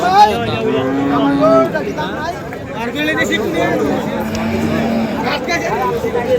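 Cattle, including bulls, moo loudly and repeatedly at a busy livestock market in Ambari, with drawn-out calls rising over a constant babble of crowd chatter and nearby voices.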